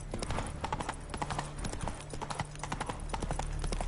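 A ridden horse trots close by, its hooves beating a quick, steady clip-clop that runs throughout at an even, fairly loud level.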